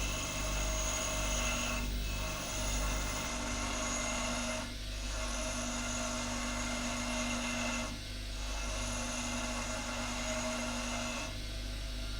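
A drill bit's flank ground on a grinding wheel, a continuous abrasive rasp over a steady motor hum, with short pauses every few seconds as the bit is repositioned.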